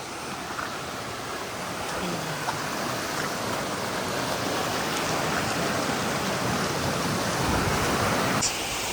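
Meeyara Falls pours in a constant, dense roar of rushing water, loud and close, unbroken throughout.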